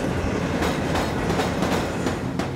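The Ghan train rolls out of the Alice Springs terminal with a steady, loud rumble of wheels on rail and a rhythmic clickety-clack of wagons passing close by, with no voices.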